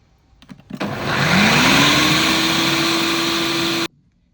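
An electric mixer runs through cacao cake batter: a brief rattle, then a loud, close motor whir that winds up in pitch, holds steady for about three seconds and cuts off abruptly. No one speaks.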